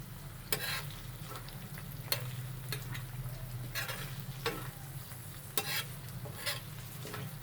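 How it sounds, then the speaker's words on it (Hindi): Tawa qeema with spices, hand-crushed coriander and chopped green chillies gets stirred on a hot tawa: sharp scraping strokes at irregular intervals over a constant low sizzle and hum. "इनको मिक्स करेंगे अच्छी तरीके से।"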